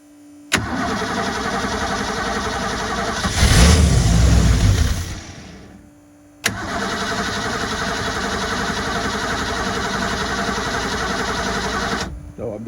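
Supra TS6M ski boat engine on choke cranks and catches, running loud and steady, then cuts out briefly before being restarted and settling into a constant rough idle.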